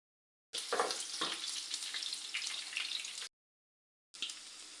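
Green chillies frying in hot oil with mustard seeds and cumin in a pan for a beans curry: a steady, close hiss and crackle that cuts off abruptly, then resumes after a short silence.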